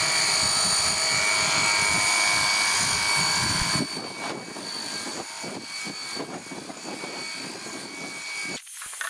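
Cordless Cecotec Hydroboost 20V pressure washer rated at 24 bar, spraying at its maximum setting: a loud, steady broadband hiss of water jet runs throughout, dropping slightly in level partway as the spray shifts, with no talking.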